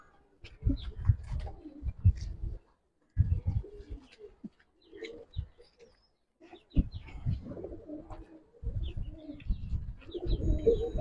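Giraffe-neck pigeons cooing in repeated low, throaty bursts close by, with a few short pauses and occasional faint chirps from other birds.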